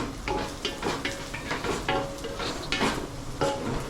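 Onions sautéing in a pan for prawn biryani, a soft continuous sizzle broken by repeated scraping and stirring strokes of a utensil against the pan, close and fairly quiet.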